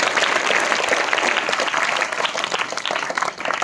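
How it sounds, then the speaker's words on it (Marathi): Loud, enthusiastic applause from a crowd at a Constitution Day 2022 event for a student, dense rapid clapping close by that thins slightly toward the end. "त्यासाठी वैष्णवीसाठी एकदा जोरदार टाळ्या."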